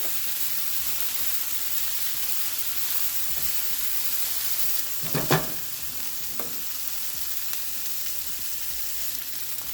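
Eggplant stir-frying in a pan for a vegetable stir fry, a steady close sizzle and hiss with a couple of sharper clatters from stirring around the middle, otherwise even throughout with no voices.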